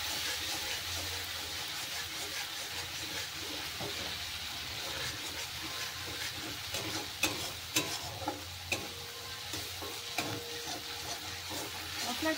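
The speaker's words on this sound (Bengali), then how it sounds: "এর মধ্যে অল্প করে একটু জল দিয়ে দেব, দিয়ে ভালো করে কষিয়ে নেব।" Spices with chili powder frying in a pan as a little water is added, giving a dense continuous sizzle and hiss with a few sharp stirring clicks toward the end.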